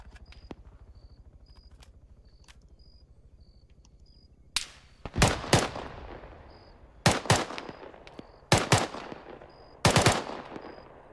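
Arma 3 gunfire: after a quiet stretch with faint electronic beeps, a single sharp shot rings out, then several loud close bursts of rapid shots follow at irregular gaps, each trailing off briefly.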